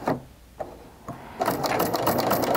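A sewing machine stitches fabric strips for a jelly roll rug. A few brief mechanical bursts give way to a steady, close whirring run of stitching.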